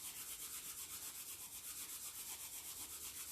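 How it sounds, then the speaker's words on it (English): Hands rub together in a steady, continuous back-and-forth friction, a close, dry swishing with a quick even rhythm during a yin yoga session, with no voices. "So first just rub your hands together"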